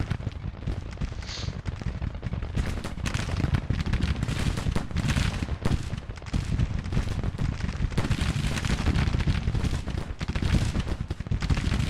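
Dense, continuous battlefield din from the Grand Tactician strategy game set in the 1863 Eastern spring offensive: massed musket volleys and cannon fire crackle and boom without pause at a steady loud level, with no talking.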